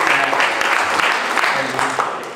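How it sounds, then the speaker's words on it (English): Applause from the audience at a press conference for a football-themed game event, steady clapping filling the whole short stretch with voices mixed in underneath. "Come on, give him a round of applause."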